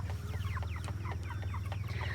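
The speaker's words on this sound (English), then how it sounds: "Whoa, we got a cockfight." Cornish Cross chickens cluck and squawk in quick agitated bursts over a steady low hum, busy and close, fighting and scuffling together.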